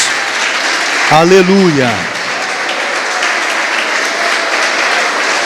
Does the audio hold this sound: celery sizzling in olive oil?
no